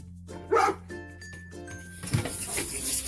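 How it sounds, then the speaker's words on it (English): A dog named Levi lets out a sharp, loud bark, followed by a few softer yips and a light clinking in the background. "Levi now barking"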